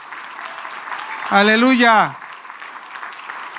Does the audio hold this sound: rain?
no